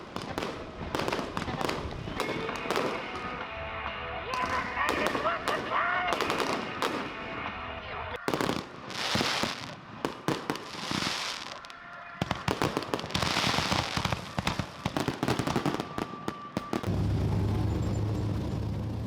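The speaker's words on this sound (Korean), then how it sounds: "결승전을 앞두고 불꽃놀이가 시작됐다" Rapid crackling bursts of fireworks pop and bang in dense volleys before a race final on a 460 m track in eastern Australia, with brief pauses between clusters and crowd voices murmuring underneath.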